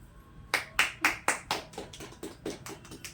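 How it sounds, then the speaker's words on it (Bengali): A child at a birthday celebration clapping hands, about a dozen quick, fairly close claps in an uneven rhythm that grow softer toward the end, with no talk. "এ বাবা, হাততালি দে।"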